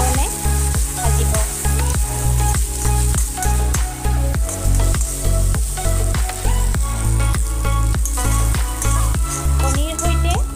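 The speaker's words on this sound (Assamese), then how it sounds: "এতিয়া তাত কণীটো ভাঙি দি পুনৰ 2-3 মিনিটমান খুব ভাল ধৰণে ভাজিব" Bottle gourd peel stir-fried with egg in a pan sizzles loudly and constantly, with a steady rhythmic scraping of a spatula stirring the mixture roughly twice a second throughout.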